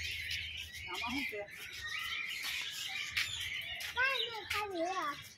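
Birds in a zoo aviary, with parrots among them, chirp and tweet in quick, fairly close bursts over low background murmur, mixed with children's and adult voices talking.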